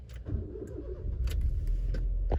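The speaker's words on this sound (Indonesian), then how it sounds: "ketika kotak on pertama atau mobil di starter pertama kali, kita starter" A Honda Jazz GD3 engine cranks and catches, settling into a low, steady idle rumble near the microphone with a few faint clicks on top.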